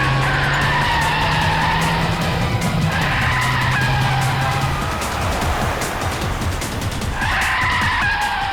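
A car with failed brakes speeds along with a loud, continuous engine roar and long, shrill tire squeals that rise and fall as it skids, with no talking.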